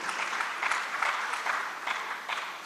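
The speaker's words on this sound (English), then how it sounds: "Please let's clap for Africa at this juncture." Summit audience applauding, a short burst of dense, moderately loud clapping with uneven peaks that holds steady from start to finish.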